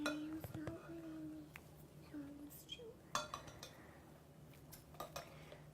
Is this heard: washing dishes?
yes